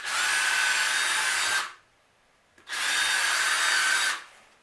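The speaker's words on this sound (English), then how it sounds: "just come in here and drill you a couple of holes" A power drill bores pilot holes into wood for a hive stand in two loud, close bursts of about one and a half seconds each, separated by a short silence.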